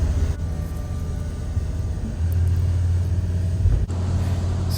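Twin engines of a Riviera 585 SUV motor boat throttle up, a loud, close, steady rumble that swells and deepens partway through, with wind rushing over it and no voices.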